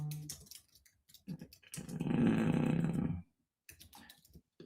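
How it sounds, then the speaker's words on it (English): Slow typing on a keyboard gives a run of irregular, close clicks and taps, with a louder sustained noisy stretch in the middle and scattered single keystrokes before and after. "Look at me typing so slow."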